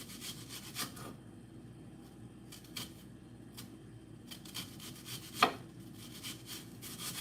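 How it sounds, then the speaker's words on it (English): A knife slices a red onion as thin as possible on a cutting board, giving soft, repeated chopping strokes with an irregular rhythm and one sharper knock near the end, close and fairly quiet, with no talking. "cut as thin as I possibly can because I like a thin red onion"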